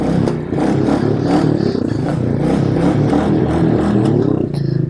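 Royal Enfield Meteor 350 motorcycle with its catalytic converter deleted, a loud continuous low exhaust thump while riding, steady with slight variations in throttle.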